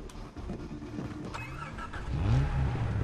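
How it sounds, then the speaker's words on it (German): A car engine in the video game Far Cry 3 starts up and revs, climbing in pitch and growing louder toward the end in a short, close burst. "Schön wieder ein Auto."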